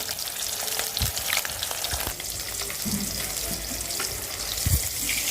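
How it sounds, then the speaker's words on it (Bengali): Fish frying in a pan gives a continuous crackling sizzle with scattered pops and spits, steady and close, no voices. "আমি এখানে কিন্তু আবার মাছটাও ভাজতে দিচ্ছি তো মাছটা ভোনার জন্য ভাজা হচ্ছে"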